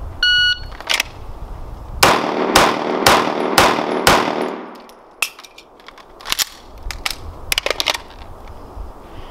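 Pistol shots fired at a target during a shooting drill, a rapid string of five sharp, loud reports spaced about half a second apart, followed by scattered quieter shots and clatter nearby.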